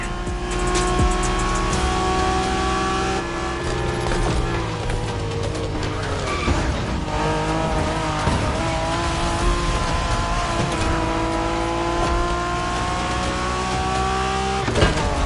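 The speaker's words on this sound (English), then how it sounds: "We're going for some proper Japanese street racing." Japanese street racing cars in GTA roaring close by, engines revving and shifting gears with tire squeals and skids over a continuous loud rush of motor noise.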